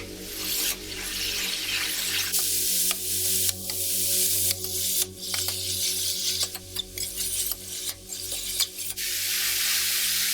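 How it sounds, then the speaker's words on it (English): Bell peppers fry with turmeric, asafoetida, paprika and chili powder in a pan, a steady sizzle broken by repeated scraping strokes of a spoon stirring them, close and fairly loud with no talking. "So I'm going to stir this."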